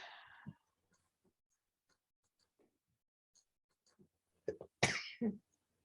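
A single sharp sneeze bursts out near the end, loud and close, following a short breathy exhale at the start and near-silence between.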